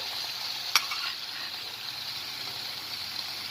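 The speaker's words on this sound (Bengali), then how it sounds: "আর এটাকে একটু পাল্টে দিলাম সম্পূর্ণ পাল্টে দিয়েছি মাছগুলো সবগুলো" Surmai fish frying in oil in a pan, a steady close sizzle with a single sharp clink as the pieces are flipped.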